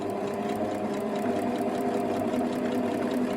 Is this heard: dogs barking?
no